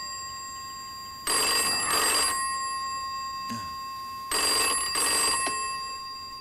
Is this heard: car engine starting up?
no